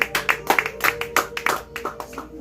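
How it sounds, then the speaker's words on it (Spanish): Scattered hand clapping from a small congregation in a church, a few sharp irregular claps standing out close by over a quiet room. "Denle un aplauso a usted."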